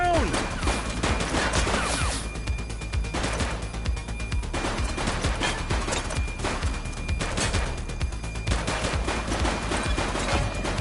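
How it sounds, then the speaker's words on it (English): Gunfire in the police video game The Precinct, repeated bursts of rapid shots in clustered volleys with short gaps between them, loud and close, with game voices shouting over parts of it. "Shots fired!"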